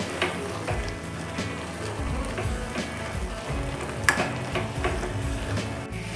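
Chickpea masala with grated coconut being stirred in a pan for a Mangalore-style Tulu kadle manoli sukka, a steady close sizzle broken by soft scraping strokes and one sharper clink near the middle.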